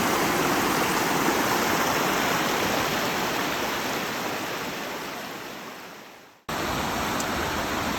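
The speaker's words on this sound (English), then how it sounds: "This is the other part of the creek." Steady, full rush of creek water flowing close by, a continuous broadband hiss that briefly cuts out near the end before resuming.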